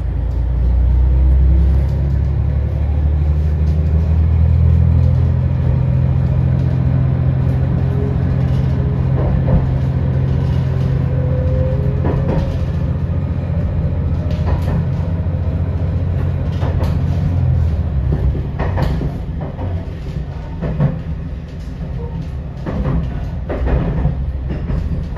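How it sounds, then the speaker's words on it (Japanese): A JR Shikoku 2000 series limited express Ashizuri No. 5 in Ranman wrap livery near Susaki, Kochi, passes with a loud close rumble, followed later by clattering rail clicks as it goes by. "反対方向からランマンラッピング仕様の2000系です。 特急足摺5号ですね。"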